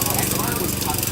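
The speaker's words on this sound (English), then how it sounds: "Run the blower." Battery-powered handheld leaf blower running at an outdoor equipment demo day, a steady, loud whooshing motor drone held throughout the short stretch.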